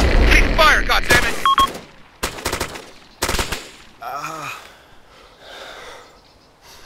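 Bursts of rapid gunfire in the ArmA 2 military video game erupt loudly at first, with several sharp volleys, then give way to quieter gasping and breathy voice sounds.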